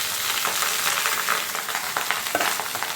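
Cooked rice fries in hot oil with bay leaf in a pan for Bengali-style fried rice, giving a loud, steady sizzle with scraping stirring noises, close and with no voices.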